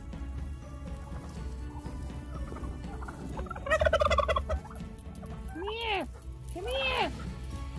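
Pet turkeys gobble close by, a loud rattling gobble burst followed by two shorter squawking calls, over faint background noise.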